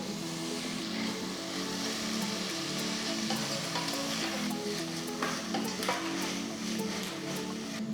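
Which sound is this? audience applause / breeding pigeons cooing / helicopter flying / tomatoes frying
tomatoes frying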